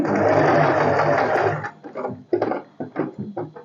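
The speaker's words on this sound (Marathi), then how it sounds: "आता इथे मी फुटर खाली ठेवते आणि सरळ शिलाई मारून घेते" A domestic sewing machine running a straight stitch with the presser foot lowered, a steady loud whir for about a second and a half, then breaking into short stop-start bursts of stitching.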